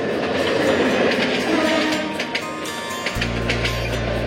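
The Tista Express, an intercity train in Bangladesh, rumbles past with a continuous, broad clatter of wheels on rails, close and loud, before a steady low drone sets in near the end.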